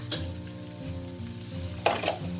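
Garlic and coriander root fry in a pan for a dipping sauce served with braised pork leg, producing a close, steady sizzle over a low tonal hum, with a couple of sudden spitting bursts.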